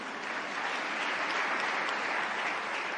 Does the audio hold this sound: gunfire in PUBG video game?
no